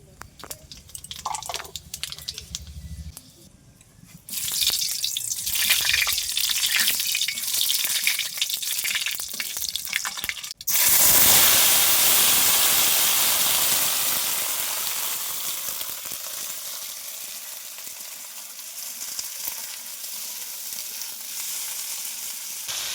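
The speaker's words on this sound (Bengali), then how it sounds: "এবার ফোড়নে দেব শুকনো লঙ্কা, 5 ফোড়ন, আর এই যে একটা তেজপাতা 2 টুকরো করে নিয়েছি" Dry red chillies, panch phoron and a bay leaf torn in two hit hot oil for tempering a spinach and paneer curry, giving a sudden loud sizzle that fades slowly. Quieter kitchen clatter and talk come before it.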